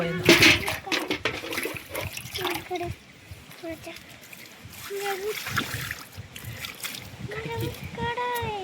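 Water splashes in bursts as feet are washed outdoors, the splatter mixing with a voice and other people talking nearby.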